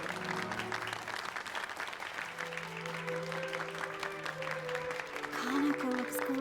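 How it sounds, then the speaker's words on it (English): Applause for a young singer on stage at the Scarlet Camellia in the Centennial Case video game, a steady crowd clapping throughout under sustained musical tones. "Give a round of applause to this young and talented singer, the future of the Scarlet Camellia"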